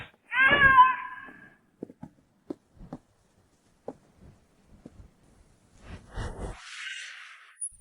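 A pet cat gives a short, bright meow up front, then scattered soft taps and rustles follow before a second, longer and louder meow near the end, close and alone without talk.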